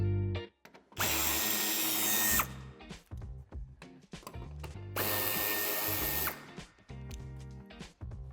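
A power drill or driver runs in two long, loud bursts, unscrewing fasteners from the rear bumper of a BMW 3 Series Touring F31, with short clanks and handling noises between the runs.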